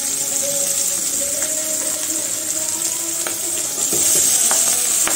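Fried potato and cabbage sizzling together in a pan, a steady close hiss with scattered crackles and some stirring scrapes that grows a little louder near the end.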